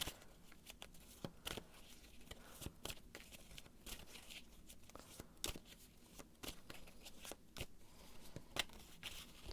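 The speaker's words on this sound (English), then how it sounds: "So I'm gonna shuffle a little bit more." Soft, repeated riffling and tapping of tarot cards being shuffled, quiet and close, with irregular light snaps throughout.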